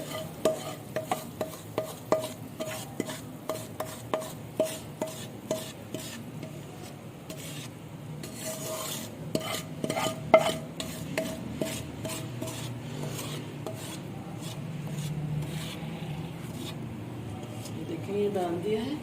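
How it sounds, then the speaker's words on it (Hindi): Semolina (suji) halwa is spread into a greased tray sprinkled with coconut. A spoon scrapes against the tray in a steady run of about a dozen close, sharp strokes, then turns into softer continuous smearing. "अब मैं ये हलवा डाल दूँगी।"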